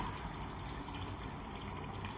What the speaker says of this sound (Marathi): थोडंसं पाणी ॲड करूया